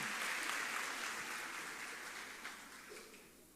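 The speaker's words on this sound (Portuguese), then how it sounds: "Vamos aplaudir nossos irmãos que estão aqui na frente" Faint, distant applause from a church congregation during a service, a dense wash of clapping that slowly fades away.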